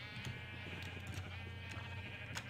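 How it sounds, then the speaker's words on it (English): Sheep in Minecraft (Crafting Dead modpack) bleating, a faint, steady wavering bleat that runs continuously through the short moment with occasional soft clicks, no voices. "Now I got a lot of purple sheep."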